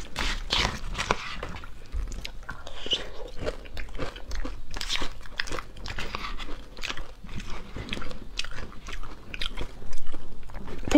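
Eating pork belly close to the mic: crisp crunching bites and chewing in a steady, irregular rhythm, loud and near, with no talking.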